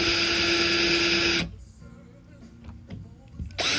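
A power drill boring holes in a door to mount a magnetic door stopper gives a loud, high whirring whine that stops abruptly, leaving a quiet gap with small clicks before the drill starts again.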